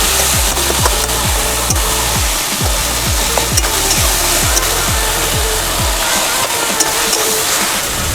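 Spice paste and melted tomatoes are sautéed in a pan for a fish-head cabbage ghonto. A steady, loud sizzle runs throughout, and rhythmic, evenly spaced scraping strokes sound close by.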